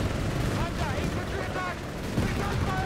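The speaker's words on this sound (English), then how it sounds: "M1340 engaging the Greyhound here. 47mm gun versus 37mm gun." Tank and vehicle gun duel in Company of Heroes 3, a 47mm gun trading fire with a 37mm gun, heard as dense booming cannon shots and rumbling battle noise that stays loud without a break.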